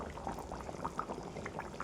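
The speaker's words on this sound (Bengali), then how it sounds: "এই দেখো টকবক টকবক করে ফুটছে।" A light fish curry simmering in a pot gives off quiet, close bubbling with soft irregular pops and no talking.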